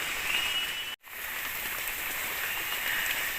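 Heavy rain pours steadily onto a tree house, a dense unbroken hiss of drops that cuts out completely for a split second before resuming at the same full, close level.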